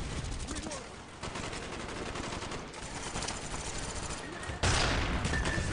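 Shotgun blasts in a Call of Duty: Black Ops multiplayer match, set among a steady din of other gunfire and game noise, with a louder close burst near the end and a voice talking over it.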